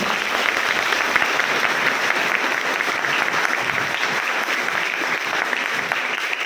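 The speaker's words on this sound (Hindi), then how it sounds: "इनके लिए भी जोरदार ताली।" Loud, sustained applause from a large crowd, steady clapping filling the whole stretch without a pause.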